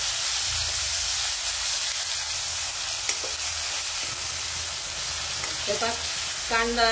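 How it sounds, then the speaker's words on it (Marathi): Onions and tomatoes sizzle in a pan while being stir-fried for an okra dish, with a constant frying hiss and a few clinks of a spoon near the end. "आता आपण टोमॅटो टाकून घेऊ, टोमॅटोला बी चांगलं असं सॉफ्ट होईपर्यंत आपण परतून घेणार आहे।"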